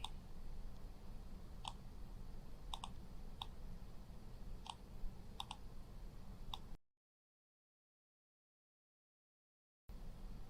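Several crisp computer mouse clicks scattered over a steady background hiss, single and doubled taps at irregular intervals while working in a drawing program, followed by a stretch of silence.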